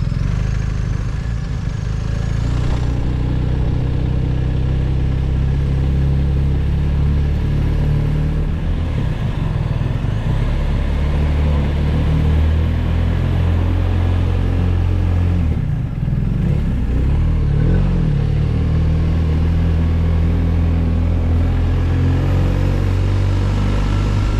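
A 2024 BMW R 1250 RT Sport motorcycle rolls along at walking pace, nearly stopped, with a steady low engine rumble that holds close and fairly loud throughout.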